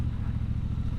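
A Triumph Scrambler 1200XE motorcycle rides in city traffic, its engine a loud, even low rumble that pulses steadily throughout.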